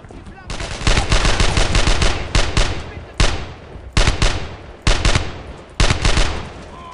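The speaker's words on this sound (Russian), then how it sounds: "А, вон он, пулемет." Machine gun bursts in the Brothers in Arms World War II shooter, with loud, dense automatic fire coming in long rattling volleys followed by short sharp bursts, heard up close.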